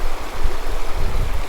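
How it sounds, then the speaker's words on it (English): A river rushes through an ice cave on the Arctic tundra, a dense, steady churning and gurgling of fast water, loud and close with no voices. "The river runs through an ice cave"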